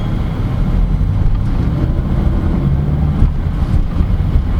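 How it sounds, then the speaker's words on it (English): Steady, loud low-pitched engine hum inside a moving 2018 Mazda CX-9 2.5 Grand Touring AWD SUV, with road rumble and a faint wind rush, continuous and without speech. "And there's also a nice hum with the engine."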